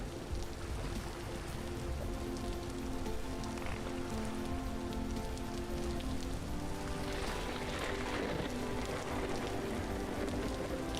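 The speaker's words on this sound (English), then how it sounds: "It still hasn't stopped raining since the very beginning." Steady rain pours down in the survival game Vintage Story, a constant dense patter on surfaces with a low rumbling undertone that stays even throughout, and no voices are heard.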